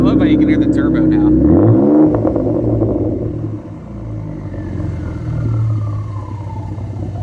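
Ford EcoBoost engine with the muffler deleted blips and revs, loud and close, its pitch sweeping up then settling, with turbo spool and whoosh audible and talking over the exhaust.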